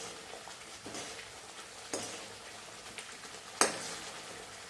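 Spice masala sautéing in a pan for a Maharashtrian brinjal (vangyachi bhaji) curry, a steady soft sizzle with occasional sharp spoon-on-pan clinks, close and alone.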